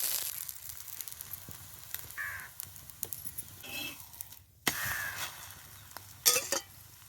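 Masala with curd frying in a pan for Marathi bhat kundule, a soft steady sizzle with occasional spattering bursts and scraping, close by with no talk.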